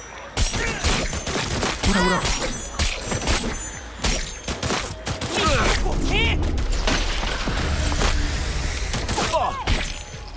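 Rapid gunfire bursts from a weapon being tested in the Cyberpunk video game, with repeated sharp shots, booms and mechanical clatter, loud and dense throughout, mixed with game effects.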